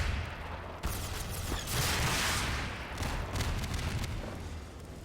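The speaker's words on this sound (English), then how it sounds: "Half-Life 2 rockets." Rockets firing and exploding in Half-Life 2, a dense run of loud booming blasts and rumbling explosions layered over each other, continuous and harsh throughout.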